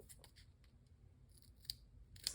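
Scissors snip through gummy, sticky paper pieces in a quiet room, a few soft close cuts with two sharper clicks near the end.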